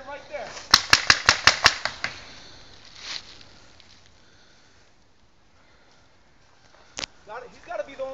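Paintball guns fire during an outdoor paintball game: a rapid string of about six sharp pops close by, a softer shot a little later, and one more crack near the end, with shouting players around and quieter stretches in between.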